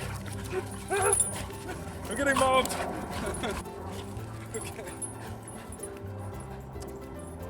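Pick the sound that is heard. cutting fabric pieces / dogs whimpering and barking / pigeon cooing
dogs whimpering and barking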